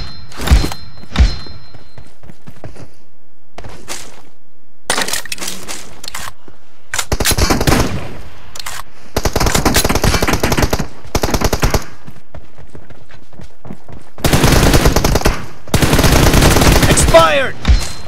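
Gunfire from the mobile shooter BGMI/PUBG Mobile in a team deathmatch, loud bursts of rapid automatic M416 rifle fire in several separated volleys with short gaps, plus scattered single shots.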